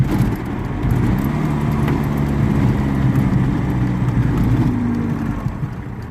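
A 1980 model car engine runs steadily at idle, a loud, close, continuous low rumble with a constant drone and no revving.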